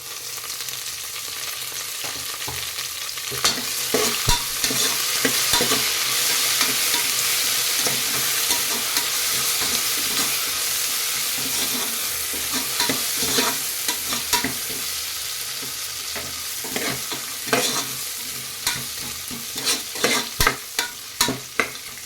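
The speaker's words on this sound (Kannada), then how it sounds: "ಫ್ರೈ ಮಾಡ್ಕೊಳ್ಳಿ. ಸ್ವಲ್ಪ ಪಲಾವ್ ಎಲೆ, ಹಾಗೆ ನಾವು ಕಟ್ ಮಾಡಿ ಇಟ್ಕೊಂಡಿರುವಂತಹ ಪುದೀನ" Bay leaf and chopped mint frying in hot ghee for ghee rice, a steady loud sizzle with frequent spoon clicks and scrapes, the stirring getting sharper and more rhythmic near the end.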